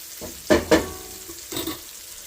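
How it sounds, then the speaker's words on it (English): Andouille sausage sizzles in a pan as its fat renders, with two quick scraping stirs followed by another, softer one later, against a low frying hiss; no talking. "we'll keep that stirred up until that sausage heats up real nice, renders some of that fat in it"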